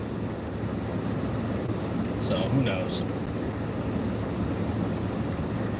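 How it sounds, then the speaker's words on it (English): A train passes at a steady distance with a continuous low rumble and a broad rushing drone, while a brief high squeal sounds near the middle. Someone talks over it. "Is that the end of the train?"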